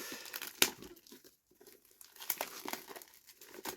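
A blade cutting open the plastic wrap on a 4K steelbook tin set, giving close crinkling and tearing with a sharp snap early on, then a pause and more rustling as the film comes apart.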